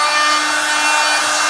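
A Festool sander working across wood flooring gives a steady, loud, unbroken abrasive hiss, close by and alone, with no voices.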